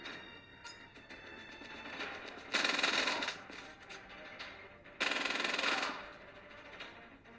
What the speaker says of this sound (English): in the advanced mode you have to press and hold the fire button